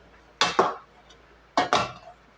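A spoon stirring chicken sotanghon soup with ginger and garlic in a pot, giving two pairs of sharp metallic scrapes and clinks about a second apart, close and loud with quiet between.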